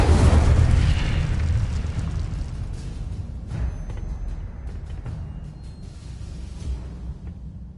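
An Incendio fire spell cast in the Hogwarts Legacy video game, a loud fiery burst at the start that rumbles and fades into a crackling roar, with softer whooshes following.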